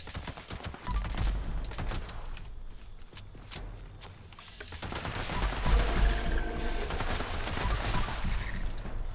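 Anti-armor explosive assault rifle firing in Fallout 76, rapid bursts of gunfire with sharp repeated cracks and explosive impacts, loud and close with no talking.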